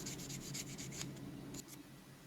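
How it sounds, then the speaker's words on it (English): Small piece of emery paper sanding a clay car model, heard as soft, quick rhythmic rubbing strokes close up that slow and fade toward the end. "Just go over the entire thing now with a small piece of emery sanding paper."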